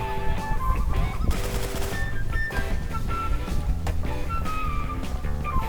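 Rapid bursts of gunfire from the zombie shooter game Infestation crackle over a busy, music-like game soundscape with honking tones, loud and continuous without pauses.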